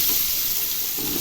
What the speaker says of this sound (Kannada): ನೆಕ್ಸ್ಟು ಅದೇ ಎಣ್ಣೆಗೆ ಸ್ವಲ್ಪ ಜೀರಿಗೆ ಹಾಕ್ತಾಯಿದ್ದೀವಿ.